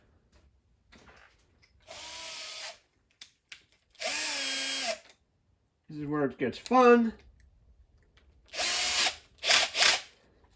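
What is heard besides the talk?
power drill drilling holes in wood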